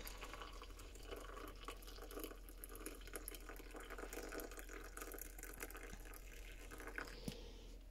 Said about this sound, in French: Du coup ici, le café il est moulu ultra fin. Donc en fait, il y a juste à mettre ça. Tu verses l'eau.